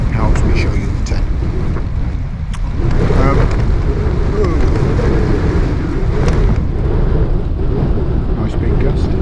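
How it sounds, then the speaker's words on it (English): Loud, steady wind roars and buffets the microphone at a wild camp in the Brecon Beacons, with a brief lull and then a stronger gust pushing back in. "Nice big gust."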